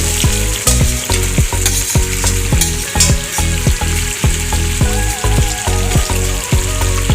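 Duck curry with potatoes stirred in a pot, a spoon scraping and knocking against the metal in a steady rhythm of about a dozen strokes over a continuous close sizzle of frying.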